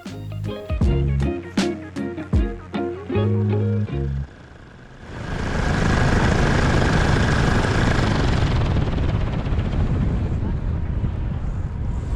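A paramotor flying low along a river: after a stretch of tonal music, a loud, steady engine and propeller drone sets in, mixed with wind rush, continuous and close, with no voices.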